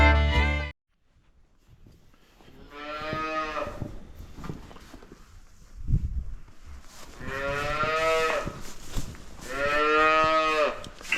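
Cows in a full barn mooing repeatedly, several long loud lowing calls spaced apart over a quiet indoor background.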